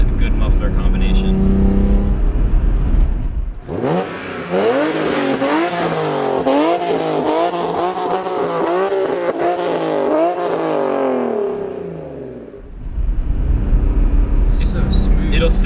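A 2004 BMW E46 M3's engine revs hard through rising and falling sweeps, a loud, close metallic rasp with an aggressive race-car edge, heard between stretches of talking.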